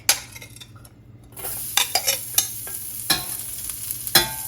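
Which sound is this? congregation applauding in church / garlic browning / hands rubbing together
garlic browning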